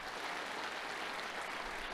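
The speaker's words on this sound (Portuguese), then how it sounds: "eu quero pedir uma salva de palmas" Steady, dense applause from a large church congregation, loud and continuous throughout with no voices above it.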